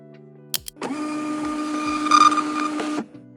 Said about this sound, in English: Then I print the job card to take out to the workshop for him.